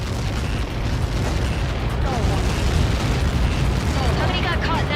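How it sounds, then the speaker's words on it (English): A massive blast in the combat flight game Ace Combat 7: Skies Unknown, a sustained, loud rumbling roar that fills the whole stretch without breaks, with radio chatter mixed underneath. "How many got caught in that explosion?"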